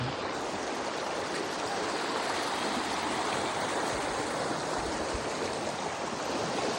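Floodwater pouring across the road leading to Budheswar temple in Bhubaneswar, a steady, loud rushing and churning wash that fills the whole stretch without pause and no voices.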